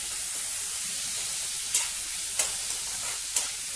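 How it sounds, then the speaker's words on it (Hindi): Tomatoes sizzle in hot oil with browned cauliflower for a butter masala, a steady frying hiss broken by a few soft scrapes as they are stirred in. "अब हम इसमें डालेंगे टमाटर, 1 कप टमाटर ले लिया है मैंने, इसे भी अच्छी तरीके से मिक्स कर देते हैं।"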